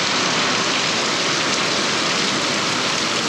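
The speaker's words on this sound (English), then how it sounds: "Okay, here comes the rain." Steady outdoor rain beginning to fall on a vegetable farm, an even, continuous hiss of drops with no pauses and no voices.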